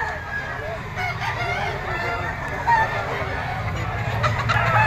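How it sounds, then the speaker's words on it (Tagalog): Roosters of a gold straight-comb fighting-cock breed brought by an owner crow at a cockfighting area, heard repeatedly over steady outdoor crowd murmur and noise. "yung mga dala niyang manok mga tol"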